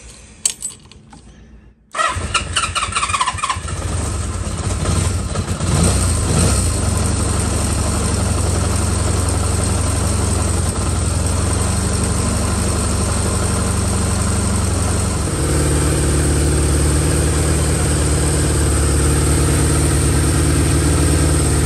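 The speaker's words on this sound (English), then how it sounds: "let's go start this thing up and get it warmed up" A Honda CB550 motorcycle engine turns over after a brief clatter, catches at once and settles into a loud, steady idle that runs on to warm up, with a slight change in tone partway through.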